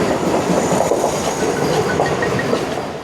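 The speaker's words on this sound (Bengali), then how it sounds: "আমাদের ট্রেন এখানে দাঁড়িয়ে গেছে আর যাচ্ছে বন্দে ভারত এক্সপ্রেস" Vande Bharat Express rolls past nearby, a steady loud rumble of wheels on rails with faint clickety-clack throughout.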